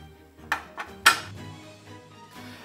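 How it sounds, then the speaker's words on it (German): Pot of pasta water set down on a kitchen stove, heard as a few sharp metallic clanks and thuds close by within a couple of seconds, followed by quieter handling noises. "Jetzt setzen wir nämlich gleich schon mal das Nudelwasser auf"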